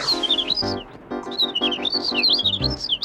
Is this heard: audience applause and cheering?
no